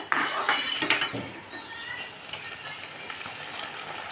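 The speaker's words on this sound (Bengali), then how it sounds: "ঢাকনা তুলে দেখি" A lid clatters off a metal pot of steamed egg, with a couple of sharp clanks at the start, then a soft hiss of steam trailing off, close and fairly quiet.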